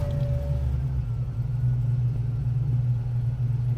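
A tuned car engine idles with a steady low rumble, close and continuous throughout, a faint higher tone fading early on.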